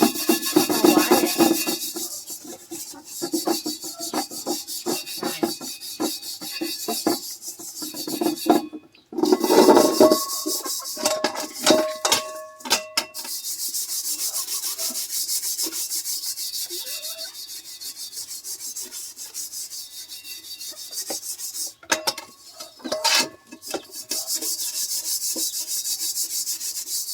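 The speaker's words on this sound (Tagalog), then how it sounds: "Kuskusin lang natin ang kawali na maigi." A frying pan (kawali) gets scrubbed hard during dishwashing, with close, rhythmic rasping strokes that come in bursts and break off in short pauses.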